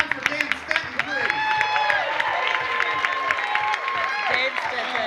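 A comedy club audience applauds a stand-up comedian at the end of his set, steady clapping with some cheers, fairly close and filling the room, while a voice talks over it.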